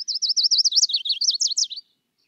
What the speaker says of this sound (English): the majority of warblers sound like they are warbling